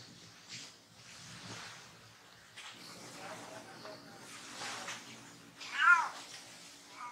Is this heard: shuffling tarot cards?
no